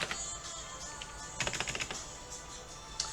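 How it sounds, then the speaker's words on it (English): Command-V paste typed on a computer keyboard: faint scattered key clicks, with a short quick cluster of taps in the middle and a single tap near the end. "And then type V with Command key."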